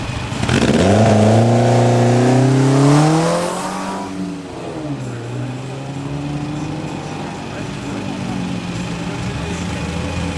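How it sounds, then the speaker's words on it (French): A Caterham car with a 2-litre Ford Pinto engine revs up loudly, then settles to a steady idle rumble, close by, with background noise throughout, at a historic hill-climb event. "elle est replaquée Caterham, c'est un moteur Ford Pinto pour les connaisseurs 2 litres."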